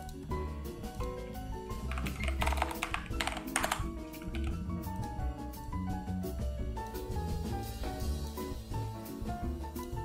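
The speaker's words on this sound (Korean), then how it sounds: "윈도우 키에서 Shift에 S를 누르고" Computer keys pressed in a quick cluster of clicks, including a Windows screenshot shortcut, the tapping fairly close but soft beneath a dense music bed.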